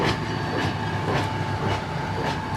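A train car with a flat wheel clatters along the rails, giving a steady rhythmic clunk roughly every half second over a continuous rolling rumble, loud and close with no voices.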